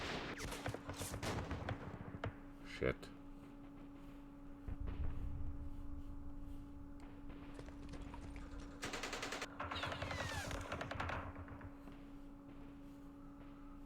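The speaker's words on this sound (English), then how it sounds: "We're going to advance into the hail of gunfire." Gunfire in the Vietnam war strategy game Campaign Series Vietnam, Dien Bien Phu battle, with repeated bursts of machine-gun and rifle fire and heavier crashes rolling on throughout, fairly faint, with one brief spoken word.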